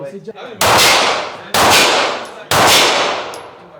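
Three booming shots from one of the world's largest-calibre guns at an indoor shooting range, each a loud sharp blast with a long ringing decay, spaced about a second apart.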